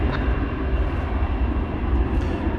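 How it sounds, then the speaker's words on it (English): An American Airlines Airbus A321 at DFW, a low, dense engine rumble with steady broadband noise throughout the short stretch. "This is an Airbus A321."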